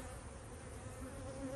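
Honeybees hum steadily and continuously at an open backyard hive, a dense, close buzz of many insects with no pauses.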